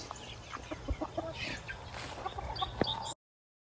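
Hens on a farm cluck softly and irregularly close by, with scattered short calls over a faint low hum, brief and fairly quiet.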